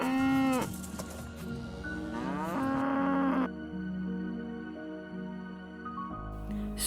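Cattle lowing in long, drawn-out moos, several overlapping calls in sequence, fairly close and loud with no voices.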